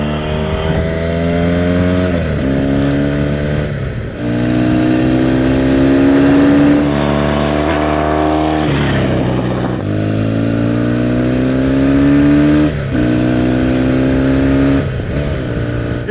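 A Laverda 750 SFC Elettronica classic motorcycle is ridden hard, its engine revving up through gears with rising pitch, brief dips at each shift, loud and close throughout.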